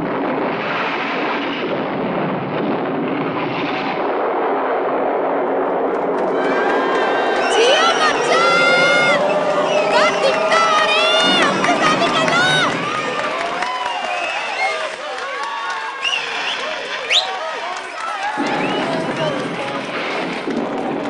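An audience at a comedy show cheers and claps, with sharp whistles cutting through the crowd noise and voices mixed in throughout.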